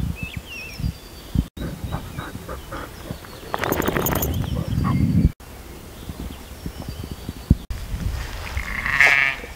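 Goats and sheep bleat on a rural farmstead with poultry nearby, a few close, wavering calls rising over background clatter and rustling, while someone talks to the animals.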